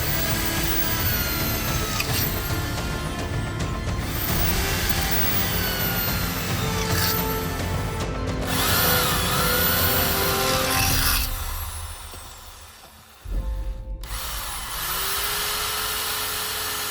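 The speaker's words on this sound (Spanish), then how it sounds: "este taladro de 750 vatios también funciona sin problemas" A 750-watt electric drill runs continuously outdoors, loud and steady with a high whine, its pitch shifting slightly before a brief dip and a restart near the end.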